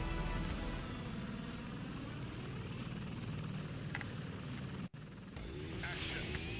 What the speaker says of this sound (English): here's the second boss, just a helicopter.